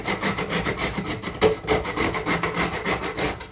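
Half a nutmeg being ground in a hand grinder for chicken hotpot, giving a steady, close, rhythmic rasping scrape that repeats in quick strokes throughout with no talk.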